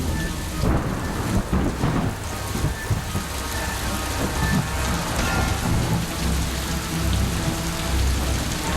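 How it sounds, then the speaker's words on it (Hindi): Heavy rain pours steadily in southern China, a dense continuous downpour with rumbling thunder rolling through it, loud and close throughout with no voices. "पूरे दक्षिणी चीन में इन दिनों जबरदस्त बारिश हो रही है।"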